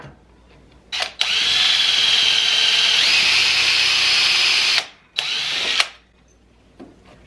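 A power drill runs at high speed while drilling and countersinking during a frozen-weather repair job, giving one long, loud whine followed by a shorter burst, with brief pauses between.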